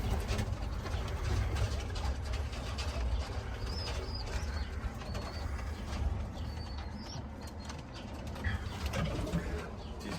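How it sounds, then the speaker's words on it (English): Pigeons coo softly in a backyard loft among rustling and shuffling, with occasional wing flaps and faint chirps, a low steady murmur of birds close by and no talk. "Came out here to check on the birds."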